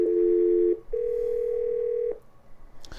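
Ringback tone of an outgoing call placed through the Avaya Workplace app, heard as two steady electronic tone bursts, a short one then a longer one, followed by faint background noise and a click.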